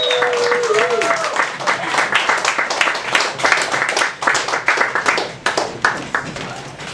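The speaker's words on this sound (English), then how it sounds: "Let's have a big round of applause for Bruce Whitacre" An open mic night audience claps for a performer, with dense applause rising into distinct, sharper individual claps toward the end, close and lively, with a brief voice at the very start.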